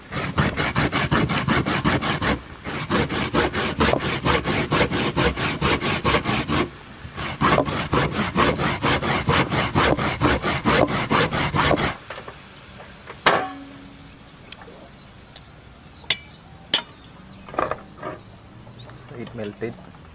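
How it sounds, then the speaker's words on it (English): Coconut is grated by hand in quick, rhythmic rasping strokes for about twelve seconds with brief pauses, then gives way to quieter scattered clinks and kitchen handling sounds. "I continue to grate the coconut."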